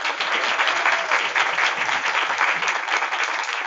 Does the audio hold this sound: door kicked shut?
no